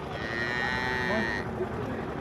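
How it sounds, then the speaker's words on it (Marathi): At a cattle market a cow gives a long, loud moo with a drawn-out tone that rises and then fades, over a busy crowd murmur. "गाय आणली गाय"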